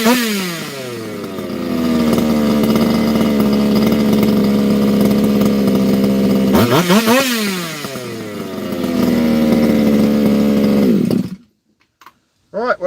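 A freshly rebuilt small engine starts and runs at a steady buzzing idle, revs sharply once midway, settles back to idling, then cuts off abruptly near the end.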